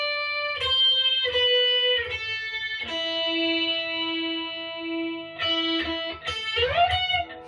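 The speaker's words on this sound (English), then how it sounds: "So the solo slowed right down, not every little bit included, would just sound like this" Electric guitar slowly playing a solo with effects and distortion: sustained single notes and bends with slides, close and clear, with faint rhythmic thumps underneath.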